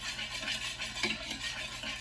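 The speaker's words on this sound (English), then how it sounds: "we're just gonna stir this up a little and help the sugar dissolve" A spoon stirs sugar in a bowl to dissolve it, making soft, continuous scraping and swishing at close range, faint and steady, with no talking.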